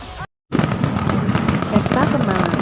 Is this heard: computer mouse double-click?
no